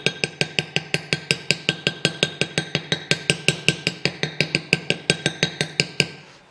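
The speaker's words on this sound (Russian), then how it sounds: "Берем молоточком потихонечку" A small hammer taps a rear brake caliper ring into place on a 2013 Land Rover Defender: about thirty sharp metallic strikes, close and evenly spaced in a steady rhythm, with no talk.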